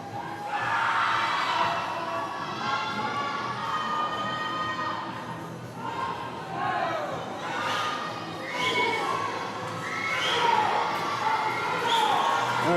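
A crowd at a swim meet cheers and shouts loudly, with high young voices rising in repeated swells near the finish of a race, steady and sustained throughout.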